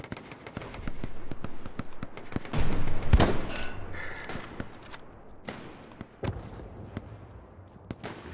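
Gunfire in the World War II shooter Hell Let Loose: dense bursts of rapid shots and sharp cracks, some near and loud, others further off, forming a steady fusillade with no talk.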